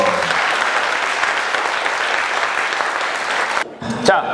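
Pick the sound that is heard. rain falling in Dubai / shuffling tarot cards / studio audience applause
studio audience applause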